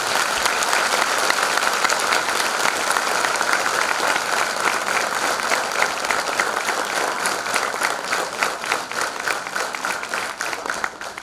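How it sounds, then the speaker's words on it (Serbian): Sustained, loud applause from a concert audience for the children of a folk dance ensemble (KUD Ljubomir Ivanović Gedža) at its annual concert, dense and steady for eleven seconds, tapering slightly near the end. "velikim aplauzom svih"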